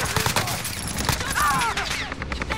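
Rapid gunfire from a battle royale video game, crackling in dense bursts through most of the stretch with a brief whistling tone in the middle, while a player talks over it.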